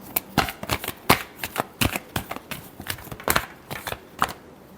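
Tarot cards are shuffled by hand in a series of quick, crisp riffling bursts and soft slaps, close and clear with brief gaps between them.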